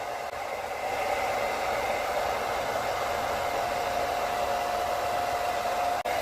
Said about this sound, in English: going to hit it with a hot dryer, just coming straight down